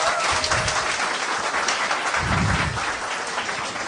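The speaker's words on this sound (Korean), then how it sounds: "박수!" Applause breaking out during a Korean political talk show, a steady wash of clapping with low thumps, continuous across the whole stretch at moderate loudness with no talk over it.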